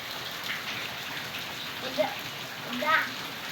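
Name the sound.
rain falling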